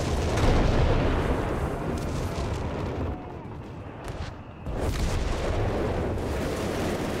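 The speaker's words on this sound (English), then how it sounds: "Just the howitzers just constantly laying down heavy barrages." A howitzer artillery barrage in Company of Heroes 3, dense rumbling booms and blasts rolling almost continuously, briefly easing midway before resuming loudly; a caster's voice may sit faintly underneath.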